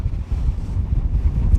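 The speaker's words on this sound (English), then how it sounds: "It's incredibly windy." Strong wind on the 13,161-foot summit of Wheeler Peak buffets the microphone in a loud, low, gusty roar throughout the short stretch.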